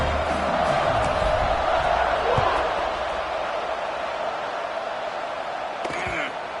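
Broad stadium crowd roar in a college football video game, Fresno State versus Northwestern after a touchdown kickoff, a steady loud wash of cheering that eases slightly toward the end, with a game commentator talking over it.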